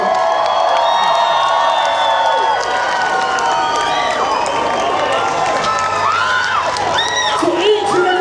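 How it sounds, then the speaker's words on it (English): A festival crowd cheers and claps, with whoops and shouts layered over a loud, continuous roar of applause and voices that stays close and full for the whole stretch. "so please give yourselves a round of applause."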